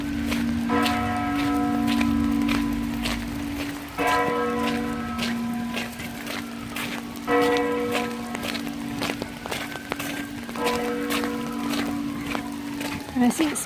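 Bells ringing repeatedly near a pirate ship ride at Tivoli Gardens in Copenhagen during Halloween, clear metallic peals in several clusters over a steady low hum, with a voice talking and outdoor noise around.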